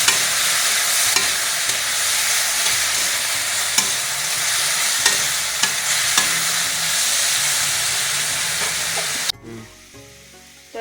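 Potatoes and carrots fry with turmeric in a wok, a loud continuous sizzle broken by repeated scraping stirs, then the frying drops away abruptly near the end.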